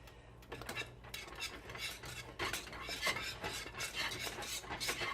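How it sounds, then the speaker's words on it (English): A whisk works handfuls of cheese into a sauce in a pot for mac and cheese, rapid rhythmic scraping and swishing against metal, close but fairly soft, with no voice. "we're going to whisk in about a handful at a time"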